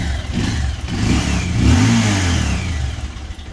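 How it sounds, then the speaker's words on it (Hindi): An old, 11-year-old Bajaj Pulsar 200cc motorcycle engine is restarted with the self-starter, then runs with a steady low rumble and a brief rising rev, close and loud throughout. "यार गाड़ी बंद हो गई है, तो उसको दोबारा मैं स्टार्ट करता हूँ"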